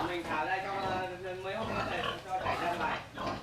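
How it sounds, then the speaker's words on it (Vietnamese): Black local-breed boar in a village pen grunting and snorting close by, with people talking over it. "Lợn bản đấy à?"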